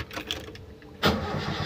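A Toyota Kijang with a 7K engine, under repair to its emission control system, cranks briefly and then catches, settling into a steady mid-pitched idle, close and fairly loud.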